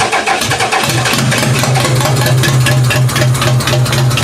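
A demolition derby car's engine cranks and catches, then runs loud and rough on only three of its four cylinders, a close, continuous uneven rumble with no talk.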